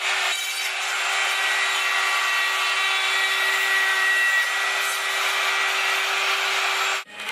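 Wood router cutting a half-inch border along a wooden panel, a loud, close, steady high whine with a constant hum that holds unbroken before cutting off abruptly near the end.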